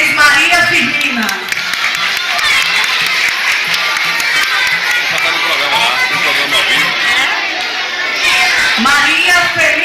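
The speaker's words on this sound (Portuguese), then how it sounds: "Para o aplauso de vocês, Maria Firmina." Audience applause at a live cultural event in Coité, Brazil, a dense steady wash of clapping lasting the whole stretch, loud and close, with crowd noise mixed in.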